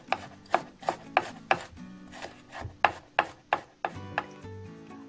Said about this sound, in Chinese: 大蒜切成蒜末